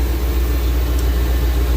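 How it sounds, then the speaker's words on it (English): A truck engine idles with a gutted catalytic converter and no back pressure, giving a steady, loud, close low rumble with an even exhaust note. "But so far, she's idling pretty smooth."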